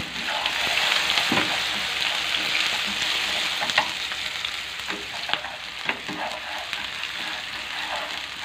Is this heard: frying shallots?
yes